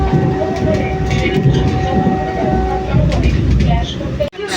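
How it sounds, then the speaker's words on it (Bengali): Vande Bharat Express train 22227 running on rails between NJP and Kamakhya, a steady loud rumble and rattle heard from inside, continuous throughout with a brief dropout near the end. "সো গাইস আমাদের ট্রেন এখন চলে আসছে পোকরাঝাড়ে"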